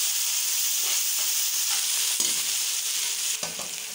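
Ginger, garlic and green chilies sizzle and crackle in hot oil in a frying pan for a beef pulao, a steady close hiss with occasional stirring scrapes.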